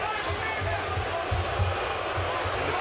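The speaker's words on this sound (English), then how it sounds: "And the crowd is reacting." A UFC Fight Night crowd reacts during the Chris Weidman vs Demian Maia bout: a steady, moderately distant murmur and roar with soft low thumps and faint voices.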